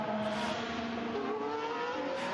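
A Formula 1 car driven by Oliver Bearman at the 2025 Chinese Grand Prix powers past to overtake, its engine note loud and steady with rising harmonic pitch throughout, no voices present.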